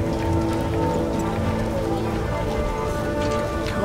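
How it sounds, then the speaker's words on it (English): Steady rain in a video game patters over a low droning tone, continuous and even throughout, with faint light taps scattered on top. "Raining cats and dogs."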